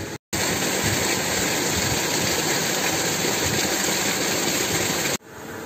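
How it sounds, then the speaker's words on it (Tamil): A village cooking stove burning with big, roaring flames, a steady loud broadband rush like a jet that holds for about five seconds, with no talking. "அடுப்பு கொழுந்து விட்டு எரியுதுங்க"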